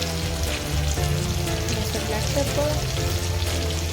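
Tomatoes frying in a pan, seasoned with about a tablespoon of salt and black pepper for tomato soup, give a steady close sizzle with faint stirring, unbroken and even throughout, with no talking.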